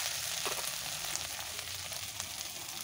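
Onions fry with ground garlic, ginger and dried red chilli paste, giving a soft, continuous sizzle with faint crackles throughout, no talking.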